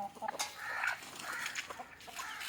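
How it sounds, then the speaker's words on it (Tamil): Native country chickens clucking softly while pecking at a meal of leftover old rice, a steady outdoor murmur of short clucks and scratchy feeding noises, no talking. "கொண்டு அழகாக கோழியில் பழைய சோறு வச்சுருக்கு."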